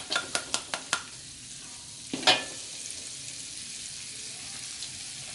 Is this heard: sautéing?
yes